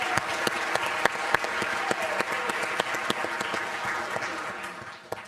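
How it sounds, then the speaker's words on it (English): Audience applause for sponsors at a startup challenge grand finale, a steady wash of many hands clapping, moderately loud with sharp individual claps standing out, continuing throughout with little talk. "Let's give them all a round of applause"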